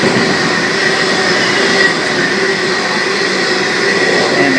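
A Sydney K-set suburban electric train pulls away from Seven Hills station, its steady rumble and wheel noise loud and continuous throughout, with rail clatter and a faint squeal riding over the constant roar.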